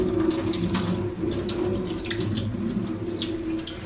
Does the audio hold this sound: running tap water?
yes